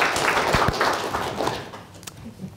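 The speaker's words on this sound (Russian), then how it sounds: "Спасибо, похлопаем." A seated audience at a Russian IT project competition claps in a scattered, moderately loud burst that thins out and fades over a couple of seconds.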